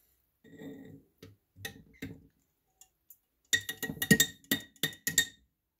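A Hot Wheels toy van drops into a glass jar of kosher dill pickle brine, giving a burst of sharp clinks and taps against the glass after a few softer knocks, close and fairly loud.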